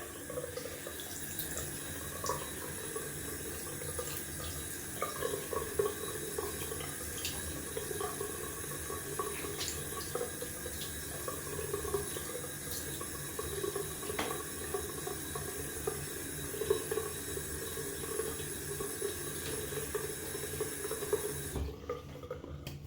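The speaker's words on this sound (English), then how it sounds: "Gonna rinse off and we are gonna do some aluming." Tap water runs steadily into a sink while someone rinses off after a wet shave, a continuous close splashing flow with small drips and shifts, lasting over twenty seconds before cutting off.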